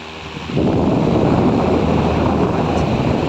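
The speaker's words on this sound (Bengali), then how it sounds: "এই ফ্যানটার আগে দাঁড়িয়ে আমি একটু বাতাস খেয়ে নিই।" A table fan blows air steadily, a loud broadband rush that kicks in after a brief quiet start and holds constant, with no voices.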